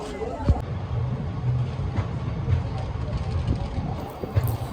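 The Kakatiya Express (17660) rolls at Kazipet station, a steady low rumble of moving railway coaches with soft rhythmic clatter, close and continuous throughout.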